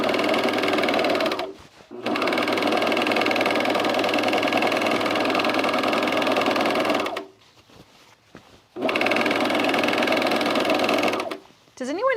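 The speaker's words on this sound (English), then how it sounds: "we're going to overlock these three seams" An overlocker sews seams on corduroy trousers, its motor whirring in three steady, loud runs separated by short pauses.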